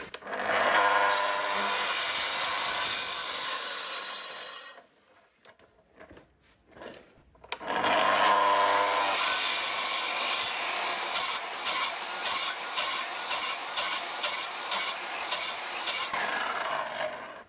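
A plunge saw running along an FS guide rail makes a 15mm-deep shoulder cut on a timber-frame tenon: a loud, close whining cut for several seconds, a brief pause, then a longer second pass.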